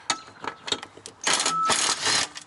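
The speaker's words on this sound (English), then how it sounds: "Just short 13mm bolts. You don't want to kill it, so I'm using my battery-operated impact driver here." Battery-operated impact driver removing short 13mm bolts from a cross member on an Alfa Romeo Stelvio Ti Sport, a series of short ratcheting bursts followed by a longer hammering run, close and fairly loud.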